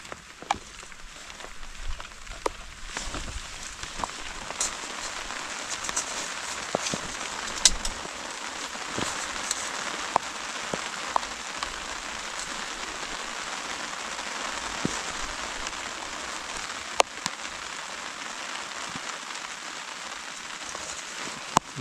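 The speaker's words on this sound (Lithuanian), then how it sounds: "ar lietus atėjo?" Rain during autumn fishing at the Kaunas Reservoir in Lithuania, a steady patter of drops on surfaces with occasional sharper taps, continuous and fairly close, with no talk over it.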